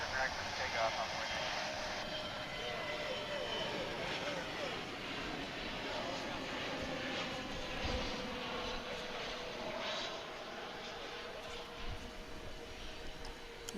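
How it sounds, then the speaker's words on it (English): Frontier Airlines jet on the runway at DFW airport, a steady distant roar of engines that holds level throughout, with faint radio chatter mixed in. "Here comes a Frontier flight from Phoenix on Runway DFW"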